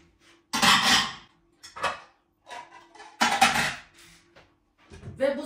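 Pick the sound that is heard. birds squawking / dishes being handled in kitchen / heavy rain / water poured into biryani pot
dishes being handled in kitchen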